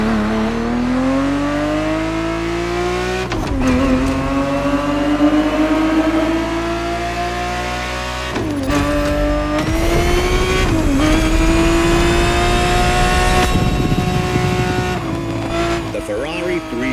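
A Ferrari 365 GTB4 engine in the racing game The Crew Motorfest revs hard and loud, pitch climbing through each gear before brief breaks for upshifts, three or four shifts in a row.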